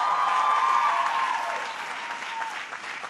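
A commencement audience at Barnard breaks into applause, a dense burst of clapping that is loudest at the start and then eases slightly over a few seconds.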